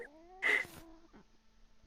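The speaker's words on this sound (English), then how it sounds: "Now I hear it's a cat." An angry cat lets out one loud, strained meow, close by. Low tonal background sounds run beneath it, followed by a faint, brief second vocal sound.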